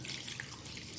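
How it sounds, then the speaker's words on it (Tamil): Water streams steadily into a cooking pot of cluster beans for kootu, a soft continuous rushing splash heard close up with nothing else over it. "சேர்த்துட்டு இதில் வந்து தண்ணி ஊற்றி வேக வச்சுக்கலாம்."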